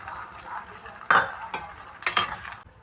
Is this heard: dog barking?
no